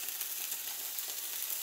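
Pancakes and turkey sausage fry in olive oil in a skillet, giving a steady, even sizzle with no breaks, close and moderately loud, with nobody speaking.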